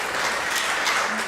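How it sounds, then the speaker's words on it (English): An audience at a talk show claps together in a dense, even burst of applause, fairly loud and sustained without voices. "And you can clap for that"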